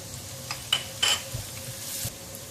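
Chilli and curry leaves frying in a pan, a soft sizzle under a few sharp utensil scrapes and stirring clinks, close by.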